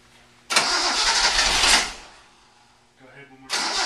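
A Datsun 260Z engine cranks after its fuel is primed, a loud whirring churn lasting over a second, then dying down before a second cranking burst begins. Voices talk nearby.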